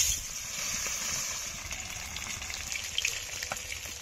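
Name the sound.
ritha fish frying in oil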